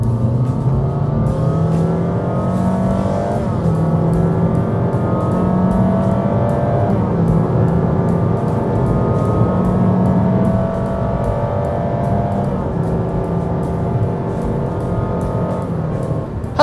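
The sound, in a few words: 2022 Honda HR-V RS accelerating hard in Sport mode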